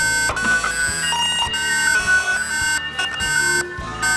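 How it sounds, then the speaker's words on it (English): A tamper alarm sounds from a wireless video door phone intercom system: a loud, continuous electronic alarm tone with repeating pulsing beeps and a steady high whine, heard close and alone. "indoor unit and outdoor unit will all give out a pressing alarm"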